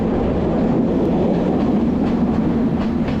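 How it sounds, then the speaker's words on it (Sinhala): The Ella Odyssey passenger train rolls slowly down mountain slopes, its loud, close, steady rumble carrying a faint rhythmic clatter of wheels on rails and no voices. "කෝච්චිය හෙමින් කඳුපල්ලම් දිගේ ඉස්සරහට යනවා."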